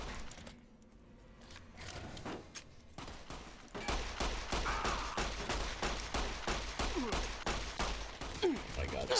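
Gunfire in Fallout: New Vegas: a few scattered shots at first, then a fast steady volley of loud cracks for the last five seconds, with voices murmuring in the background.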